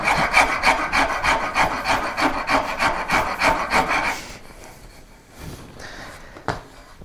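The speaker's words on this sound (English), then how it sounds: "Now I'm going to switch over to this, I think they call this like a dragon tooth rasp." A dragon tooth rasp shapes a wooden guitar neck in close, steady back-and-forth rasping strokes for about four seconds, then stops, leaving quiet handling sounds and a faint knock.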